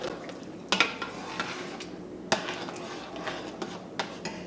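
A spoon stirs chipotle chicken corn chowder in a pot, making soft clinks and scrapes against the metal over a faint background hum. A few sharper knocks stand out, and no one speaks.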